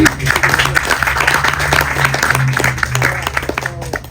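Applause from a chamber of commerce gathering honoring a police chief, a busy patter of clapping hands with crowd murmur and low hum underneath, steady and fairly close for the whole stretch.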